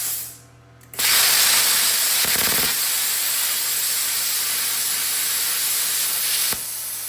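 An ArcCaptain Cut55Pro plasma cutter starts with a sharp burst and then cuts metal, giving a loud, steady, close hiss that runs for several seconds before easing slightly near the end.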